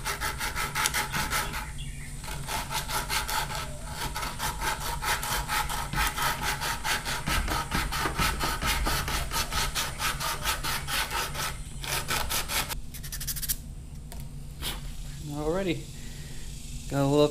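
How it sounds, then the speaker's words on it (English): Sandpaper rubbed by hand over the edges of a wooden crankbait blank, a steady rasping scrape running close and loud for most of the stretch, with brief gaps and a voice near the end. "Just take a piece of sandpaper, pliable,"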